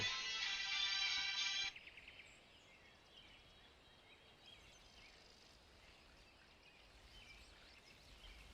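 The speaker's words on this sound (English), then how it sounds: "Somebody calling me from Michigan before I've even turned my phone on." A phone ringtone for an incoming call, a bright electronic tone playing loudly for under two seconds before it cuts off and leaves faint background rustling.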